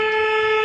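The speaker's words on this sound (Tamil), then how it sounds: "அதனால தான் நம்ம வந்து ஹார்ன் அடிச்சிருக்கோம்." A Tata Ace Porter truck horn sounds one short, steady, loud honk at a turn, alone and close.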